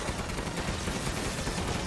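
Continuous close gunshots during a final boss fight in Resident Evil Village, a dense, loud barrage of rapid fire with no pauses or talking.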